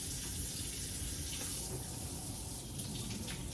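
Tap water runs steadily into a sink or container for planting onion seeds, a continuous close hiss and splash with no talk over it.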